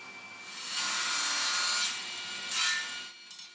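A saw cuts through reclaimed beech wood at a 20-degree angle, producing a steady rasping hiss that swells for a long stroke and then a shorter second burst, close and clear.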